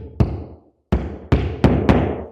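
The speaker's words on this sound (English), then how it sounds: "We'll hammer in our next wall anchor." A hammer strikes a wall anchor five times: sharp, loud knocks up close, a pause after the first, then four quicker blows in succession.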